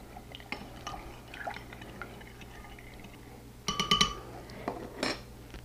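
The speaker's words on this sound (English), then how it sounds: "Give it a stir." A bean salad being stirred in a large measuring cup used as a bowl, with a sugar and oil dressing; soft wet sloshing gives way to a burst of clinking utensil taps against the container near the end.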